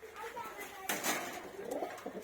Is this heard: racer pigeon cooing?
yes